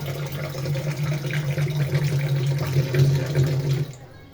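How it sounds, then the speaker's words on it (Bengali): Water runs steadily for about four seconds as a cook tops up a simmering pot of soup noodles whose gravy has dried down, a continuous close pouring wash that stops abruptly near the end. "একটু পানিটা শুকায় গেছে আমি একটু পানি নিয়ে নিচ্ছি"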